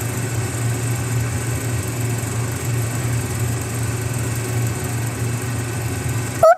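A loud, steady excavator engine drones continuously at close range with no break, then cuts off abruptly at the end.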